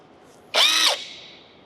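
An Assur cordless drill fitted with a bit adapter gives one short, loud, high whine of under half a second that fades away, heard close with no talk.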